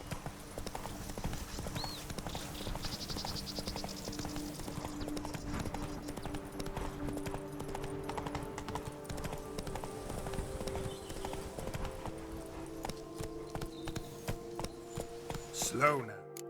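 Roach the horse from The Witcher 3 trots along in a steady, rhythmic clip-clop of hooves, with a voice speaking over it and a brief louder burst near the end.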